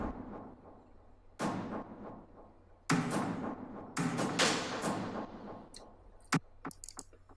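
Layered orchestral drums in a psytrance drop, with delay, sidechaining and high-pass filtering: booming hits and rolls in uneven bursts, each trailing into echoing repeats, ending in sparse, sharper taps.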